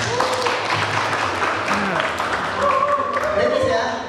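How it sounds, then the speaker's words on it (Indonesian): An audience at a tips-and-tricks talk breaks into lively applause, a few seconds of mixed clapping with voices and chatter running through it. "Hadiahnya tepuk tangan yang meriah"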